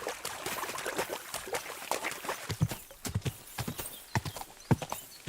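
Horse hooves clip-clop on the ground in the medieval game Kingdom Come: Deliverance II, an irregular string of close, sharp hoofbeats speeding into a trotting rhythm.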